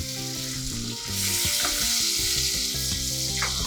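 Chopped onions and garlic sizzle steadily in a hot pan for a creamy pasta, a continuous crackling hiss under background music.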